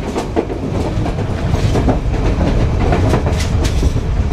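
Sri Lankan passenger train on the Colombo to Kandy line heard from inside a swaying carriage, with a loud, continuous roar and a rhythmic clickety-clack of wheels over rail joints.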